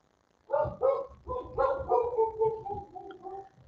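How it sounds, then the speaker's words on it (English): A dog barks repeatedly in quick, loud bursts at close range, each bark ringing briefly before the next. "my dog's barking because somebody's at the door"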